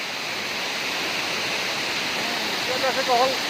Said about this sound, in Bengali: বলে একটু কি সুন্দর জল পড়ে আছে, ওইদিকে যাচ্ছে জল, ওইদিকে যাচ্ছে রাস্তার নিচে দিয়া।